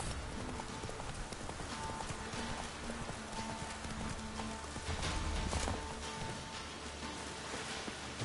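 Steady hoofbeats of a galloping horse clatter continuously under a noisy, busy soundscape in The Witcher video game, with a faint whinny and no clear talk.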